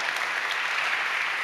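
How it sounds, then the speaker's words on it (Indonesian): A church congregation claps steadily, a dense, even wash of applause from many hands that stays close and sustained throughout. "Tepuk tangan bagi Allah kita"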